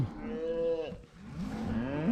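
Cattle moo on a farm with many cows and calves, two long, loud lowing calls close by, one after another with a brief gap, no speech over them.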